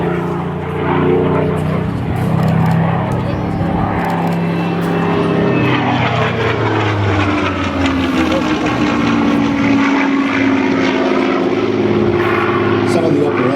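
A propeller-driven Spitfire Mk XVI fighter flies past at Temora, New South Wales, its piston engine droning loudly and steadily with a shifting pitch throughout, while someone talks over it.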